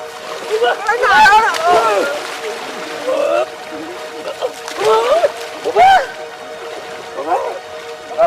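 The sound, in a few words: water splashing while bathing in a river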